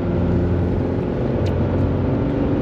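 Full-throttle diesel drone from a Mercedes W201 190D, a steady, dense low engine rumble heard from inside the car with no talk over it.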